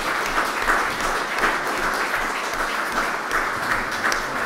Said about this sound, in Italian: vi prego di accoglierlo con un applauso